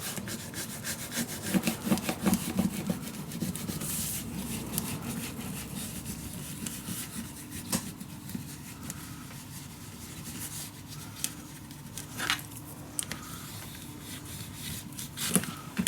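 Paper is burnished down onto a Stamperia mini album, a dry rubbing and scraping repeated in steady back-and-forth strokes, close and moderately loud, with small taps and bumps scattered throughout.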